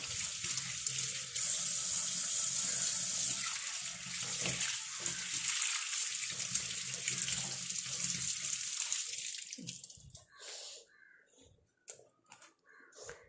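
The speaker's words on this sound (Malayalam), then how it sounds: "ഇത് വെള്ളം ഒഴിച്ച്" Water pours steadily from a kitchen tap for about ten seconds and then stops, with crow caws faintly in the background.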